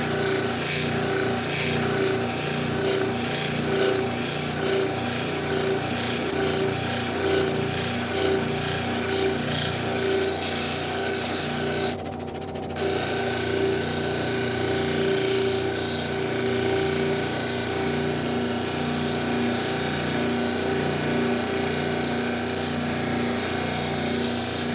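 A power tool polishes quartz glued into a rock piece at a fine grit, giving a loud, continuous steady whine with a brief shift partway through.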